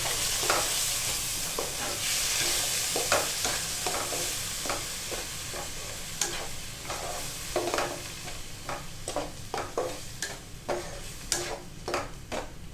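Blended beetroot and tomato stirred into a sizzling paneer bhurji in a pan, repeated spoon scrapes and clacks over a continuous frying hiss, close and fairly loud, with no talking.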